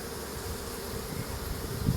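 A honey bee swarm being installed into a new hive gives off a dense, continuous close buzz that holds steady, with no voices.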